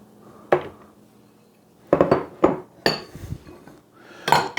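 Bowls clinking as they are moved aside in a home kitchen during flatbread prep, a handful of separate sharp ceramic knocks and clatters spaced across a few seconds, close by with quiet pauses between.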